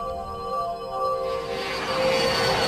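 A Soviet fighter interceptor jet on a test flight over Riga, Latvia, in 1968 gives a steady, loud engine roar with a whining tone that swells and turns rougher toward the end, with no voices.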